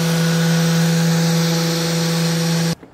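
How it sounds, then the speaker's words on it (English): A power sander works wood with 80-grit sandpaper, giving a loud, steady motor whine and abrasive hiss that cuts off abruptly near the end. "We're gonna start at 80 grit and work our way up to 320 grit."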